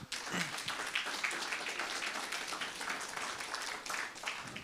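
A church congregation at a Sunday service claps for a singing group that performs hymns. The applause is faint and distant but continues throughout.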